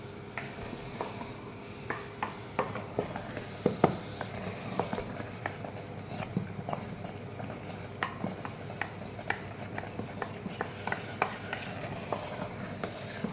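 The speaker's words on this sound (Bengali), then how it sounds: "চিনি দেওয়ার পর কিন্তু 1 মিনিটও হাত থামাবে না, অনর্গল মানে নাড়তে থাকবে" Carrot halwa being stirred steadily in a pan, a continuous soft scraping with frequent light clicks of the spoon against the metal, close and moderately quiet, with no talk.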